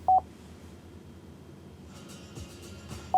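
A 2018 Chevrolet Equinox infotainment phone screen plays short dialing tones, a single beep at the start and another at the end, with faint soft tapping in between.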